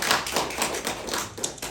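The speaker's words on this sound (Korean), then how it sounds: "하나님께 감사의 박수" An Easter Sunday church congregation gives a burst of applause. The steady patter of many hands clapping together is soft and slightly distant, continuing evenly for under two seconds.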